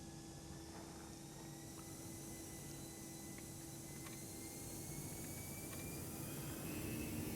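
Airbus A319 engines in X-Plane 11 give a steady, faint, broadband roar with a constant hum, evenly sustained throughout and building very slightly toward the end.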